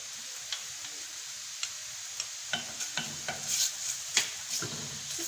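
Tomato paste and garlic frying in oil in a pan, with a soft crackling sizzle and scattered light clicks of stirring that grow busier toward the end, close and quiet, with no talk.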